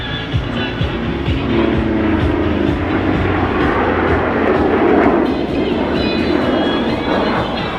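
A Yak-110 jet-boosted aerobatic aircraft with 6,000 pounds of thrust roars steadily during a hovering display at an airshow, a loud, continuous broadband engine roar close to the crowd with no talk.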